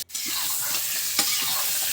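New potatoes stirred in hot oil in a pan for chicken curry give a steady close sizzle, broken by soft scraping strokes of the spoon, with no talking.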